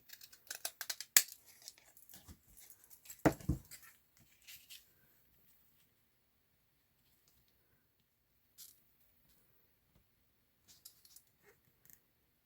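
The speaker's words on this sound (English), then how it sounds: "just cut these with the deckled edge scissors." Deckle edge scissors snip through paper tags in a quick cluster of close crisp cuts, then only a few faint isolated clicks follow amid near silence.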